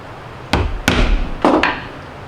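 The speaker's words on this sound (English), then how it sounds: "Tap lightly with the setting tool on the reverse side to nestle it into the leather." Four sharp taps of a metal setting tool striking a snap to set it into a leather cuff, arriving in two quick pairs, close and crisp with short ringing decays.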